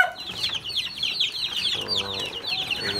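Native backyard chickens cluck and chatter in a busy, close flock before feeding, with overlapping short calls and a brief flutter of wings.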